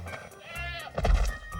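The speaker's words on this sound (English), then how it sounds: "Carrie, these are the male goats." Male goats at a bucks party bleating loudly at close range, wavering calls overlapping with rustling and some movement noise.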